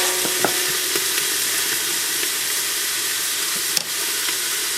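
Vegetables sauteing in bacon grease for clam chowder, a steady broad sizzle with scattered spatula stirring and scraping clicks, close and continuous, with one sharper knock near the end.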